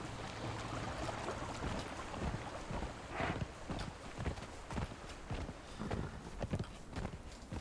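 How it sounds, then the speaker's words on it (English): A horse ridden in the video game Conan Exiles clops steadily along, a continuous run of close hoofbeats over a wind-like background bed. "I always usually have a hard time turning a horse"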